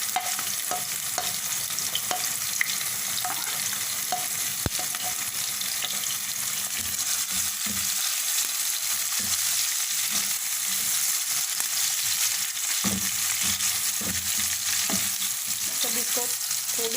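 Garlic-ginger paste, julienned ginger, green chillies and tomato fry steadily in hot oil, a continuous close sizzle broken by occasional scrapes and knocks of stirring, with no voices.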